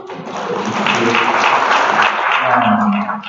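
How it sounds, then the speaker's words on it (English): Audience applause at a Pittsburgh gathering, a continuous, loud burst of clapping from the room, with voices mixed in underneath. "Round of applause."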